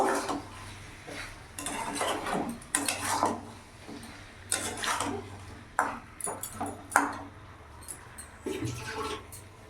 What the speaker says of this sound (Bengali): এবার এর মধ্যে আমি আদা রসুন লঙ্কা বাটা দু চামচ দিয়ে দেবো ভালো করে মিশিয়ে নেব